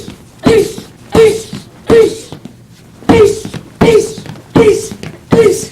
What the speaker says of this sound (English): she delivers a variety of powerful knee strikes to the target